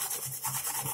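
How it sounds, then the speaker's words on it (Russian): Washed raw potato being grated on a kitchen grater while preparing a compress, giving a steady, close scraping rub in rhythmic strokes, with no talking. "Картофель моем и просто натираем на терке."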